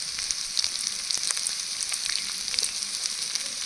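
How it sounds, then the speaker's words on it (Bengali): Boiled potatoes with salt and a little turmeric sautéing in a pan for vegetarian aloo dum: a continuous close sizzle with small crackles and light scraping, no voices. "এবার আলুগুলো খুব সুন্দর করে কষিয়ে নেব"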